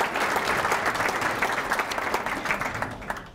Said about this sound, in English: If we could get another round of applause for all of our speakers.